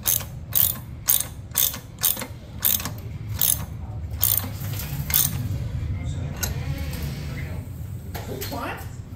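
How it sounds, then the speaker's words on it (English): A ratchet wrench with a 7/16 socket tightens a breather fitting on a mini bike, giving a run of crisp, rhythmic clicking bursts up close, followed by quieter scraping and a few softer ratchet clicks. "I'm gonna go ahead and get the 7/16. We're gonna screw it down."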